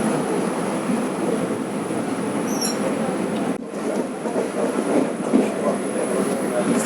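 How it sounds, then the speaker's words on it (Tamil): Passenger train pulling out of Palakkad Junction on a Coimbatore to Mangaluru run, heard from inside the carriage as a steady, close rumble of rolling wheels and rail noise with no talk. "இப்போ பாலக்காடு ஜங்ஷனில் தான் வண்டி கிளம்பிருச்சு."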